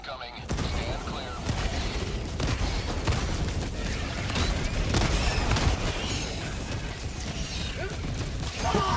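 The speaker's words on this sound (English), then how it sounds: "Orbital barrage incoming." An orbital barrage in Helldivers 2 pounds away as a dense, continuous roar of explosions and rumbling impacts, with repeated crashing bursts and voices heard over the chaos.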